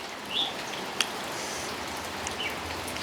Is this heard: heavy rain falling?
yes